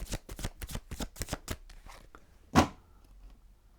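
A Morgan Greer tarot deck is shuffled by hand, a rapid series of close, crisp riffling snaps for about two seconds, then a pause and one louder slap of the cards.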